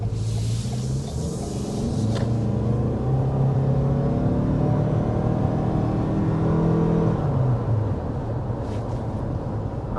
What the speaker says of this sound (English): we're going to go ahead and start with a hard acceleration